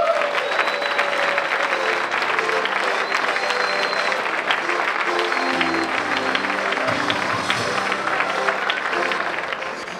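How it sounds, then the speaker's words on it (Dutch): Warm sustained applause from an audience at a startup awards ceremony in Breda for the award winner, loud and steady throughout, with music playing underneath and tapering slightly at the end. "mag ik hartelijk applaus voor de winnaar van de Breda Startup Award"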